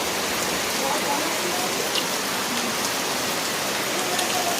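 Heavy rain pours down outdoors in stormy weather, a loud, dense, unbroken hiss of drops striking surfaces that holds steady throughout, with no other sounds standing out.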